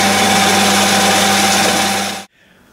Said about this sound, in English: So all set up on the milling machine now.